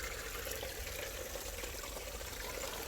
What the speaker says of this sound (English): So I'm going to let that keep siphoning for a bit longer